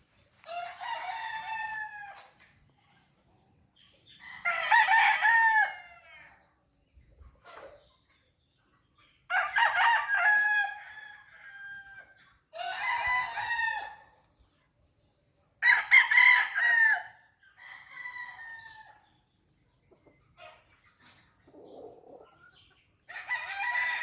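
A hiray gamecock rooster crows repeatedly in a quiet backyard poultry setting, about five loud calls spaced several seconds apart, with softer clucks between them.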